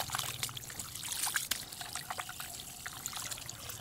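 Water trickles and splashes steadily as cleaned, gutted fish are rinsed by hand, a continuous close pouring and dribbling with no talk.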